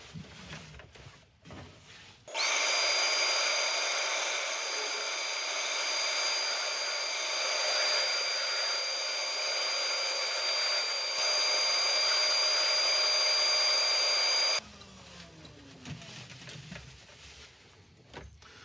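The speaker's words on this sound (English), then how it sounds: "I'm going to spend a bit of time sanding this outside" A loud, steady whirring hum of a lathe with sanding hiss on the outside of a wooden hollow form starts abruptly, runs evenly for about twelve seconds, then cuts off to quiet handling sounds.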